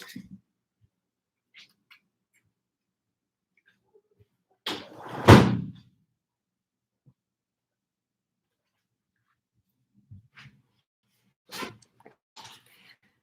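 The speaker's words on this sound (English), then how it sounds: "So let me just go shut that other door." Mostly quiet room with one firm door shut in the middle, a short thud, surrounded by faint scattered clicks and rustles.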